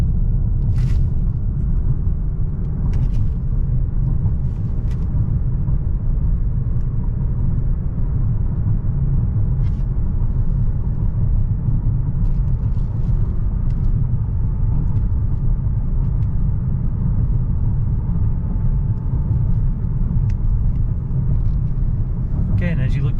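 A 2018 Mazda3 Grand Touring on the road, its tires and suspension giving a loud, steady low rumble that fills the whole stretch evenly, with a few faint knocks and rattles on top.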